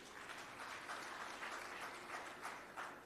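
Delegates at a national ANC political gathering applauding, a dense, even wash of clapping from a large crowd, faint and distant-sounding, sustained for a few seconds without speech.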